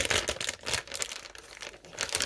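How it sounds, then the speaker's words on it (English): A plastic Ziploc bag is torn open up close, giving a run of crisp, crinkling rips and rustles over a couple of seconds with no talking. "It didn't tear straight, so the Ziploc is worth nothing."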